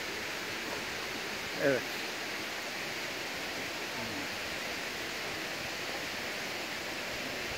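Steady rushing water roar of the Tatlıca Waterfalls in Erfelek, constant and broadband, with a brief word spoken over it partway through.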